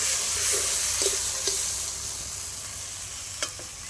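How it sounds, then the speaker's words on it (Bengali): Spices and turmeric sizzle steadily in a hot pan for egg biryani, a dense, continuous frying hiss broken by a few soft scrapes and stirring clicks, close and alone. "হয়ে গেছে আমার কষানো।"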